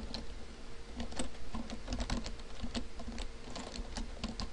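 A computer keyboard clatters with a steady stream of quick, close key taps in an uneven rhythm, heard on its own without speech.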